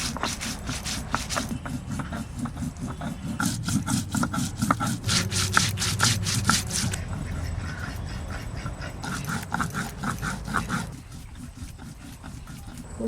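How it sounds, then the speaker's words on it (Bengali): Cumin and coriander are ground by hand on a grinding stone in a rapid rhythmic rubbing, scraping back and forth close up, easing off toward the end. "মশলা আমি বেটে নিই, জিরে ধনে লঙ্কা আদা এগুলো বেটে নিই আগে"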